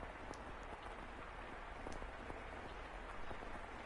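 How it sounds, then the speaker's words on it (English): Cold rain falls in the video game The House in Fata Morgana, a steady, soft, even hiss of rainfall with faint scattered drop ticks throughout. "Such a cold rain."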